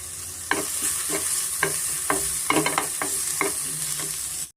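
Chopped onion fries in oil in a pan over medium flame, a steady close sizzle with repeated scraping stirs of a spatula running throughout, no voices.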